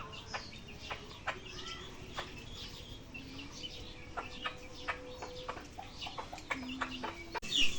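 Chickens clucking close by near pigeons eating paddy, repeated short clucks and calls scattered across a quiet rural background, with a brief louder knock at the end.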